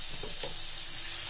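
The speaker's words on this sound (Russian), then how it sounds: "Все это перемешиваем хорошо." Onions and tomatoes fry in a pan while a utensil stirs them, soft scraping strokes over a steady, even sizzle, close and fairly quiet.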